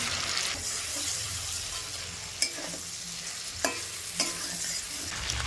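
Fried pabda fish being set into a sizzling, oil-released spice masala in a pan, with a steady frying hiss and a few sharp clinks and scrapes of a utensil against the pan.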